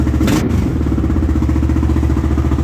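A Yamaha Raptor 660 ATV engine idles loud and close after a clutch replacement, a fast, even single-cylinder chug with a brief clatter near the start.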